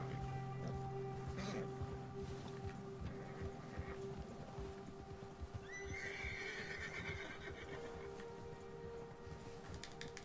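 A horse in the Red Dead Redemption 2 video game neighs loudly with a rising whinny midway while hooves clop and scrape steadily underneath, close and clear over faint game ambience.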